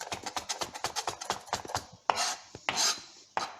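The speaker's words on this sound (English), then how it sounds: "So when you're chopping" Knife chopping herbs such as cilantro on a cutting board in a home kitchen while making cream of mushroom soup: a quick, steady run of close, crisp taps, then a few scattered heavier knocks and scrapes.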